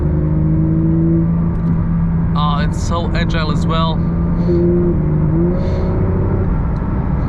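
Porsche 992 GT3 Touring with a naturally aspirated flat-six, its steady engine drone and a couple of rising revs running under the cabin noise while someone talks over it.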